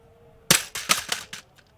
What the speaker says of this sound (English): That is where the windage turret smacked the concrete.